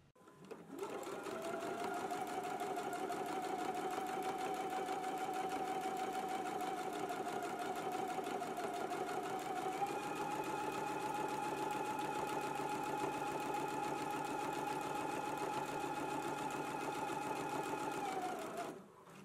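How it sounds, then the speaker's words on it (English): A sewing machine running steadily while topstitching a quarter inch from a fabric seam, a continuous even whirring hum that starts, holds for nearly twenty seconds with a slight pitch shift midway, then stops. "Now we can go to the sewing machine and we can begin stitching 1/4 of an inch away from our seam."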